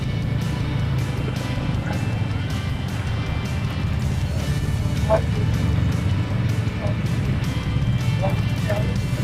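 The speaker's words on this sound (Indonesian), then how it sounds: "Truk-truk besar masih melalui ya jalur Cibarusah ini guys." Large trucks rumbling past on the Cibarusah road in Bekasi Regency, with a continuous heavy low engine drone close by and occasional clanks, while someone talks over the traffic.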